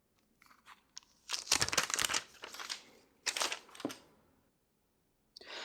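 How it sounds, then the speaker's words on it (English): Paper wrapping being peeled and torn off an Honor Magic V5 foldable phone box, close crinkly crackling bursts in a few separate pulls with short pauses between. "I'm taking the paper off."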